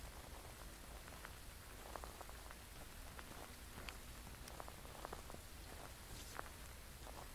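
Steady rainfall in the video game Phasmophobia, a soft, even patter of drops hitting surfaces that continues throughout without any talking.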